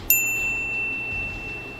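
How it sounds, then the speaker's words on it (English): A single bright notification bell ding strikes once and rings out with a long, clear, fading tone over a quiet background. "ring the bell to get notified about our latest videos"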